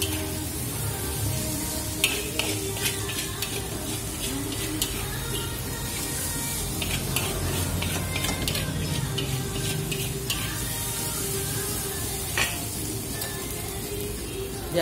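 Mie gomak noodles with soy sauce being stirred in a hot frying pan, a steady sizzle with scraping and clinking of the utensil against the pan throughout, close and continuous.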